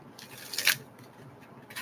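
A deck of tarot cards is shuffled close by: soft rustling and flicking, with one louder crisp burst of cards riffling together partway through, then lighter shuffling.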